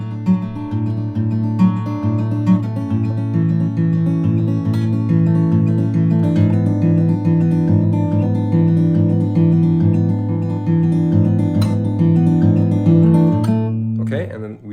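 Acoustic guitar strums steady chords on its own in a transition leading into a song's chorus, with evenly spaced rhythmic strokes and clear ringing strings at close range.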